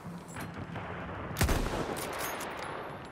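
One rifle shot in Battlefield 1's Kaiserschlacht map snaps out sharply with a low boom and a decaying echo, over distant battle ambience and faint scattered gunfire.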